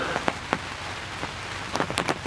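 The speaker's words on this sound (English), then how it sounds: "Well, it's supposed to rain all day." Rain pattering steadily on a hunting blind, with a few sharper drops striking close by against a soft continuous wash.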